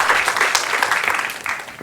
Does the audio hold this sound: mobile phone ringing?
no